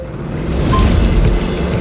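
Go-kart engines at the start of a race on a kart track give a steady, loud, close motor roar that holds for a couple of seconds with no speech.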